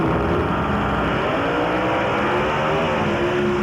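A nitro drag racing car running very rich makes a loud, continuous raspy engine roar with shifting harmonics during a hard quarter-mile pass, with no talk.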